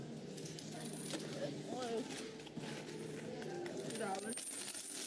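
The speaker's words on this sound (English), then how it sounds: "Oh, I hear a lot of coins moving back there." Coins being moved and counted, a run of light metallic clinks and jingles at fairly low level beneath near-continuous talking.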